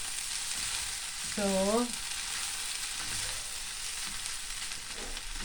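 Noodles with broccoli stir-fry in a pan, giving a steady hiss and sizzle with faint stirring. A voice briefly speaks over it.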